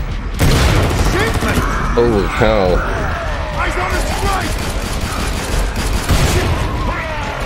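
Loud bursts of Killing Floor 2 explosions and gunfire roll over a constant noisy backdrop, with a man exclaiming briefly partway through.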